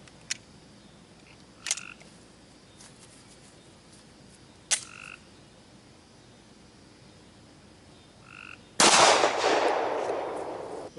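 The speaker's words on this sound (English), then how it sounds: "Let's rechamber it and see if it'll fire again." A Glock pistol loaded with 9mm FMJ ammunition gives a few sharp mechanical clicks as it is rechambered, then fires a single loud, close shot near the end, followed by a lingering wash of noise.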